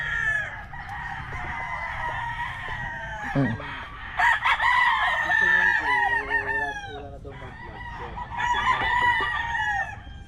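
Chickens cluck and a rooster crows repeatedly at close range, the calls rising and falling in overlapping bursts over a steady low outdoor hum.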